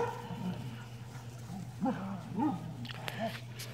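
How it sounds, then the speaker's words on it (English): Airedale Terrier puppies play around a backyard fire pit, giving faint whimpers, yips and small whining cries in short bursts over a steady low background hum. "Hoping we can get them chasing around a little bit here."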